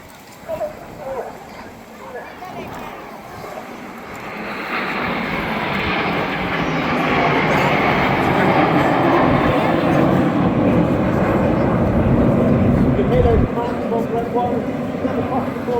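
RAF Red Arrows jets fly in formation at the Eastbourne airshow, their roar building from a distant rumble to a loud, sustained wash of engine noise that holds steady overhead, with a commentator talking throughout.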